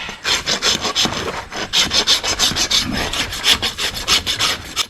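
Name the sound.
rasping a draft horse's hoof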